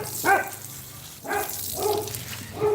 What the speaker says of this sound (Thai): หมาเห่านี่มันไม่ใช่เห่าอะไรนะคะ มันวิ่งตามเจ้าของมันนะ